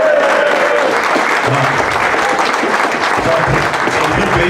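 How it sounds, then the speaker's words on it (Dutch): Loud, dense clapping rolls through a carnival crowd at a Weert carnival society gathering in honour of a member. It holds steady for several seconds, with a faint murmur of voices underneath. "Mensen, mogen genoeg een applaus voor Dennis Heijmans."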